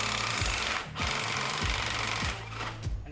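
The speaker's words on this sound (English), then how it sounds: "For that, we're going to use our trusty dusty impact gun." An impact gun hammers in rapid rattling bursts undoing a bolt on a BMW E46 track car during a coilover installation, pausing briefly between pulls, loud and close with no talking.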